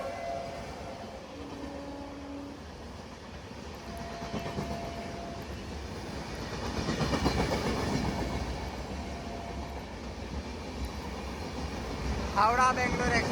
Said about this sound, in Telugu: హౌడా యశ్వంత్పూర్ దొరంతో ఎక్స్ప్రెస్ అనేది మన VAP 7తో హై స్పీడ్ యాక్సిలరేషన్తో ఓవర్టేక్ చేసుకుంటూ వెళ్ళిపోతుంది.